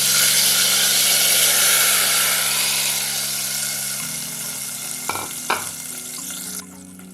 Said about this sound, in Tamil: நம்ம கரைச்சி வச்சிருக்க புளியும் தக்காளியும் தண்ணி இதில் ஊற்றிக்கலாம்